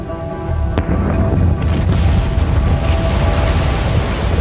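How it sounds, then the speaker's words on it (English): Dramatised volcanic explosions of Krakatoa roll out as a deep, continuous rumbling roar with a couple of sharper cracks near the start, loud and sustained with no speech. "Throughout the night, the explosions increased."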